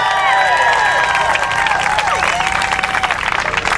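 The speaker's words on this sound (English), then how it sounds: "Give them a big cheer." Rally crowd in Fort Worth cheering and applauding loudly, dense continuous clapping with rising whoops and shouts throughout, close and sustained with no break.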